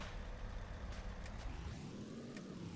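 A car in a Roblox game drives past with a low engine rumble that swells and shifts pitch, with faint clicks and no voices.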